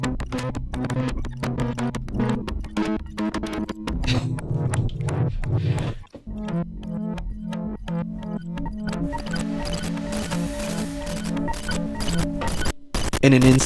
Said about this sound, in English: this is one of my favorite synths because I could do these weird things